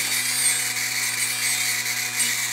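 Dremel rotary tool grinding the talons of a great horned owl, a steady high whine with constant motor hum running throughout, close and continuous.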